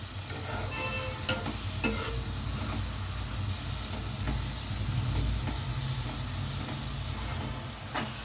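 Cabbage for a cabbage coconut fry sizzles steadily in a pan as remaining water cooks off, a constant frying hiss broken by a few sharp scrapes and taps of a utensil, close by and without speech.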